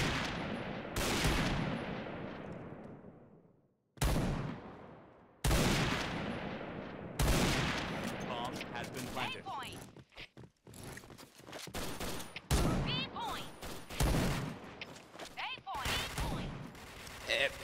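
Bursts of weapon fire in the shooter game Point Blank, with repeated loud volleys separated by short gaps and sharper single shots later, while a voice talks briefly between them.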